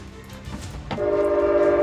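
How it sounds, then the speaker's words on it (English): A loud train passes nearby and sounds its horn: a steady, droning blast starts about halfway through and holds to the end, over a low rumble. "Got a loud ass train coming through."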